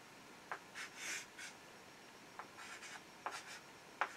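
Pen or marker strokes while a matrix is written out by hand, short scratchy bursts of writing spaced irregularly with quiet pauses between, close and faint.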